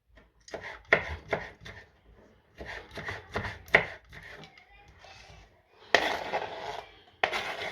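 A knife chops green onions on a board in quick rhythmic bursts of sharp taps, pausing briefly between groups, close and fairly loud.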